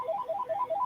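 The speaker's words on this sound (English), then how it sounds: "We have another incoming phone call." A phone rings with an incoming call, a rapid warbling electronic ringtone repeating its two-tone pattern several times in under a second, clear and alone.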